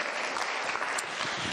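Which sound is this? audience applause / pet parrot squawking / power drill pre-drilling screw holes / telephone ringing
audience applause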